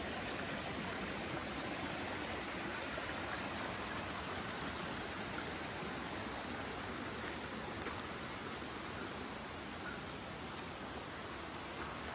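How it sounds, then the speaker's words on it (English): Steady rain falls outdoors in Idaho's Clearwater Mountains, a dense, even hiss that holds at one level for the whole stretch with no other sounds. "Rain all night."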